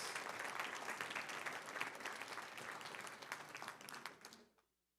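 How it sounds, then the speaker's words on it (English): An audience at a school district board meeting gives a round of applause for middle school DI champions. The clapping is dense and steady for about four seconds, then fades out and stops. "Let's have one more round of applause for all of our middle school DI champions."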